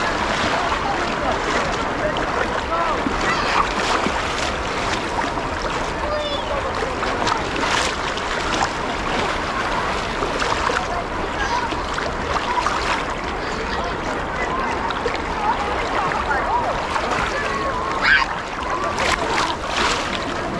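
Sea waves wash steadily onto an Odesa beach, a continuous broadband rush with gentle swells in loudness, with faint voices and breeze mixed in throughout.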